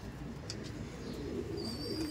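Pigeons kept in a large home loft coo softly and steadily in the background, a faint, low, continuous murmur with no talk over it.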